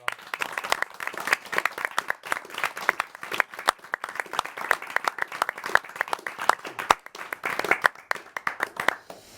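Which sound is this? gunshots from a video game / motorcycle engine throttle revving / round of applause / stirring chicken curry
round of applause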